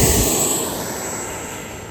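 FMS 70mm Viper RC jet with afterburner taking off at half flaps, a loud steady turbine whine and broadband roar close by that slowly fades as it pulls away.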